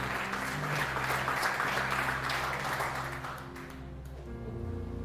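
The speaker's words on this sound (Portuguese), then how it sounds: "aplaude o nome de Jesus mais uma vez" A church congregation claps in sustained applause that fills most of the stretch and then thins out toward the end, with a low hum underneath.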